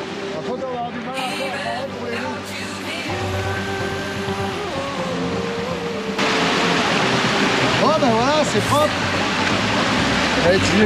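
Rushing water flows continuously, a broad hissing stream that grows louder partway through, while people talk over it throughout.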